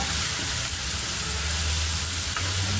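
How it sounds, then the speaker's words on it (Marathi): Tomato and onion masala for chole gravy frying in a pan, a steady loud sizzle that fills the clip without pause, with no talking over it. "टमाटर आणि कांदा खूप छान भाजून घ्यायचा।"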